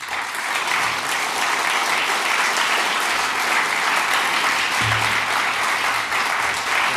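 A large audience applauds steadily in a hall as Sir Roger Scruton is welcomed, a dense, continuous clapping that holds loud for the full stretch with no talk over it.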